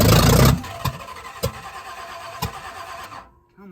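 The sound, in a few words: 1965 Chevy Impala big block engine cranking to start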